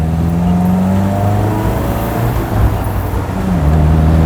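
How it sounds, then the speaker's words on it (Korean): A classic MGB sports car engine revs up and settles on a winding road, its low growl rising and falling in pitch, loud and close throughout. "오래된 스포츠카임에도 불구하고 엔진 소리가 상당히 경쾌하면서"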